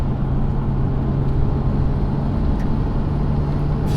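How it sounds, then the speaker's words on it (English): A 530 hp Nissan Skyline R34 GTR with a single-turbo conversion cruises in fifth gear, its engine a steady, heavy low rumble heard from inside the cabin, with no distinct turbo whistle standing out. "Can you hear the turbo?"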